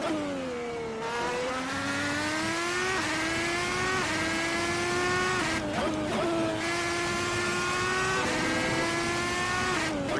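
Red Bull X2010 race car engine screaming at high revs, climbing steadily with several quick gear shifts that drop the pitch briefly before it rises again, loud and continuous with no talk.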